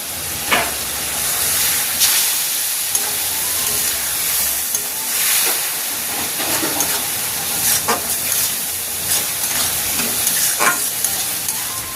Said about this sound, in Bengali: সব মশলাগুলো ভালো করে কষে নেবো যাতে মশলার গন্ধ না থাকে